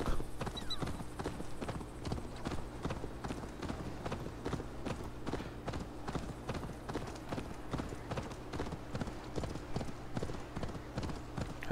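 Horse hooves clip-clopping steadily along a busy road in the video game Assassin's Creed Valhalla, a dense rhythmic patter of several horses, fairly faint, with a voice talking faintly underneath.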